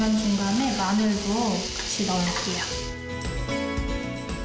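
Pork belly and garlic sizzle steadily in a waffle iron, a dense continuous crackle heard close, while someone talks over it.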